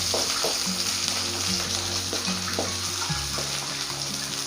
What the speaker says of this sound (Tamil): ஆயில் சூடாயிடுச்சு, ஆனியனை போட்டுக்குவோம். நல்லா வதக்கிக்குவோம்.